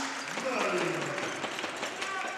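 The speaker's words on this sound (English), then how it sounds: "applauding that play" Crowd applauding a play at a basketball game: a steady, broad roar of clapping and cheering from the arena, with a commentator talking over it throughout.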